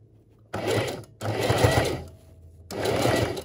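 Home sewing machine stitching a canvas pouch for a camping cooking kit, running in three separate bursts of steady, close mechanical whirring with short pauses between them.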